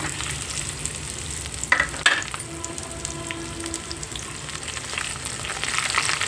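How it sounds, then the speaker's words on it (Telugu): Dry fruits fry in ghee with a steady close sizzle and bubbling, a couple of sharper clinks from a spoon early on, and no voices. "నెయ్యిలోనైతే వేయించుకుంటున్నాను చాలా బాగుంటుందండి"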